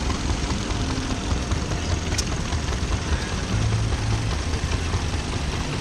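A stationary engine runs steadily at the 2024 Henham steam rally, driving a generator to power lights, its continuous low chugging drone blending into broad outdoor noise throughout.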